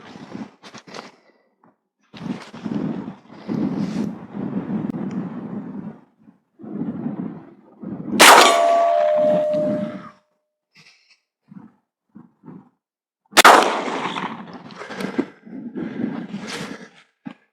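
Two loud, sharp reports from a Husan Arms single-shot rifle fired at a target on an outdoor range, several seconds apart, each ringing briefly, with someone speaking in between.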